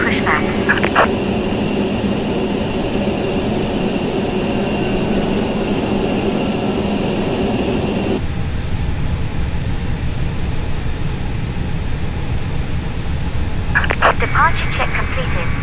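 Airbus A320neo airliner during pushback, with a loud continuous cabin engine and air-conditioning roar and a few faint chimes and clicks. The noise drops partway through to a quieter rumble.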